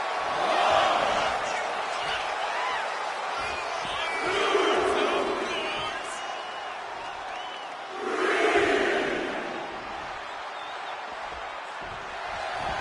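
Arena crowd in a WWE video game wrestling match, a continuous loud roar of cheering that swells in waves, with a commentator talking over it.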